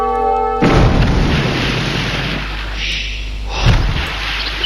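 Demolition ships explode in the real-time strategy game Age of Empires II, giving a loud, deep boom followed by a rumbling roar and a second thudding blast.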